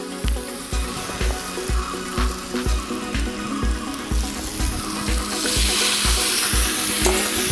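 Tomatoes go into golden-brown onions frying in a pan, with a bright, constant sizzle and regular rhythmic stirring taps, growing louder and hissier toward the end; close by, no talking.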